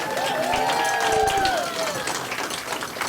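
Audience applause at a Master Brokers Forum panel event as new members are welcomed: steady, close crowd clapping with a few whistle-like whoops gliding over it, with voices mixed in throughout.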